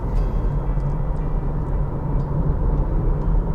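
A dense low rumble fills the cabin of a 2020 Subaru XV Hybrid small SUV driving slowly through a tunnel, a steady road and engine drone with faint higher whine, no voices.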